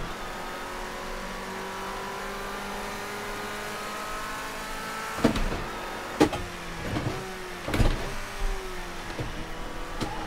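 A race car on the Bathurst circuit holds a steady engine drone, then blips and drops through third and second gear in several sharp, loud revs and shifts over the last half, with no voices.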